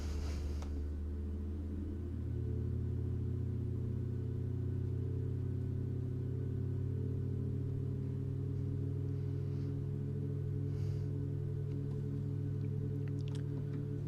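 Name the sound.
Boeing 737 MAX engine startup in Microsoft Flight Simulator video game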